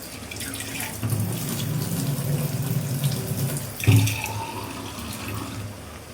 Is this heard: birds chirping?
no